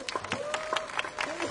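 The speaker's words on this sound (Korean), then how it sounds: "힘차게 격려의 박수 부탁드리겠습니다." Clapping from a crowd at an outdoor labor protest by subcontracted broadband workers, a dense steady patter lasting throughout, mixed with faint voices.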